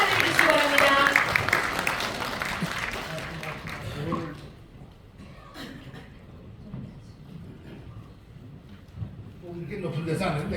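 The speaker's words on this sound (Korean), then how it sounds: "뜨거운 박수로 환영해 주시기 바랍니다" Audience applause at a Korean blockchain business association's fifth-anniversary ceremony, strong at first, mixed with music and a host's voice, then fading into murmuring and scattered claps.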